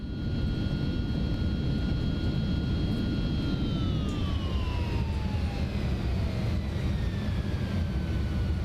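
An MD-11F in X-Plane 12 rolling out after landing at Amsterdam, reverse thrust giving a steady heavy roar with whining engine tones that slowly wind down in pitch.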